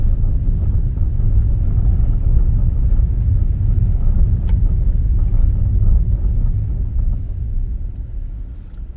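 A car drives the narrow one-lane backroads of Nazaré, Portugal; a steady, loud low rumble of the engine and road noise from inside the cabin carries on alone throughout.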